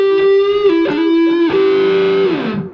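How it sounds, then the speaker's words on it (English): A distorted electric guitar rings out with sustained, buzzing notes and a few short bends, loud and close, fading off at the end. "I'm using the amp distortion."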